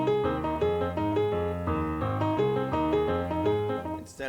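A jazz standard plays in even, straight eighth notes rather than swung, a steady melodic line over bass notes that runs close and continuous before cutting off abruptly.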